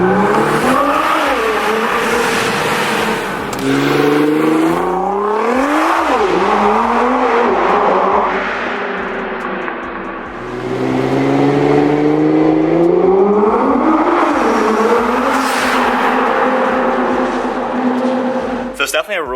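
A Nissan GT-R with a loud aftermarket exhaust revs repeatedly, the engine pitch climbing and falling in long sweeps, close and loud throughout, with someone talking over it.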